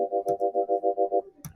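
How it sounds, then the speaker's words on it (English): A synthesizer sampler chord played with a wah function, pulsing in eight even, rhythmic swells of a steady tonal chord before it cuts off, followed by a brief click. "a wah function"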